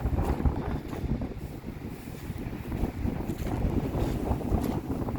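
Strong wind buffets the microphone continuously at a caravan campsite in Yeniköy, Karacabey, Bursa, a low blustery roar with occasional gusts, no voices.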